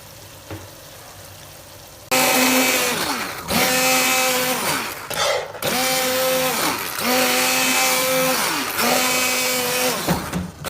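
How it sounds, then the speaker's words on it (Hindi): A hand blender whirs loudly through tomato masala for aloo kofta curry in bursts of a few seconds each, its motor pitch dropping and rising between pulses, alone with no talk. "और अब हम करेंगे मसाले को ब्लेंड"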